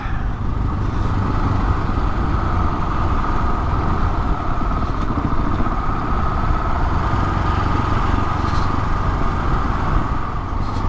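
A Husqvarna 701 Enduro motorcycle rolls downhill with a steady, moderately loud engine hum under constant wind buffeting. There are no distinct revs and no voices.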